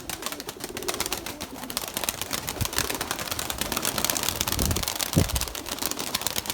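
Domestic pigeons of the Erzurum white breed coo and flutter in a loft, a busy jumble of soft calls and wing flaps with sharp clattering bursts, close by and fairly loud.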